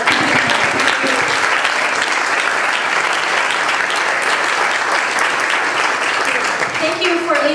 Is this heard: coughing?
no